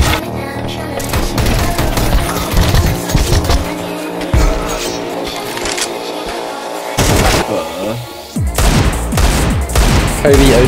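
Rapid gunfire from a Counter-Strike match on the Nuke map, dense bursts of shots over game noise and engine-like rumble, with a short lull before firing resumes loudly.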